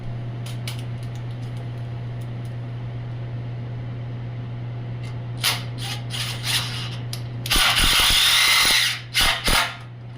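A power drill drives a screw into the mounting of a relocated electrical outlet, its whine rising in short bursts and then a sustained loud run over a steady low electrical hum.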